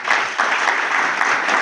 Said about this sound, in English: the contractor deserves a big round of applause